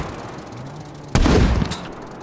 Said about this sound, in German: Steffi, ja, also das ist M82, ja, die hat einen Wumms, es ist Wahnsinn